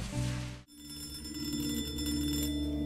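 A telephone bell rings in the Hello Neighbor video game, a steady electronic trill that sounds continuously and clearly with no talking over it.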